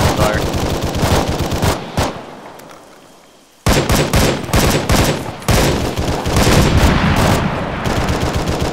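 Gunfire in the Arma 3 military game during a defend-the-factory firefight: loud, continuous automatic bursts and heavy shots, a short lull, then renewed intense shooting, with voices talking underneath.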